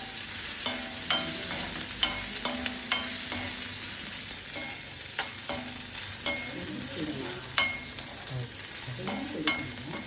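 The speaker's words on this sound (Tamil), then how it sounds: "இந்த வெங்காயம் இஞ்செல்லாம் பூண்டு ப்ரௌனாக வரணும்" Onion, ginger and garlic sauté in a pan until brown, with a steady sizzle under repeated sharp clicks and scrapes of a spoon stirring against the metal, close and fairly loud throughout.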